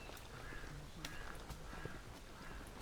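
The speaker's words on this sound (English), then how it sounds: "And a crow, I can hear crows." Several harsh crow caws sound at a moderate distance, spread across the clip, over a steady outdoor background hum.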